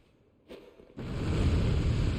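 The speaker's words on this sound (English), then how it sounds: "You heard a lot of explosions," Fire bombs set off explosive barrels against a door in Dark Souls 2, first a brief muffled burst and then a sustained rumbling roar of explosions that holds to the end.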